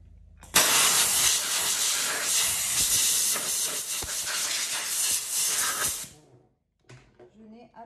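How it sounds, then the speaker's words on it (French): A steam cleaner blasts a loud, steady hiss of steam onto a vacuum cleaner accessory for about five seconds, then cuts off, followed by quiet handling noises. "je vais, sans le sprayer cette fois-ci, envoyer de la vapeur"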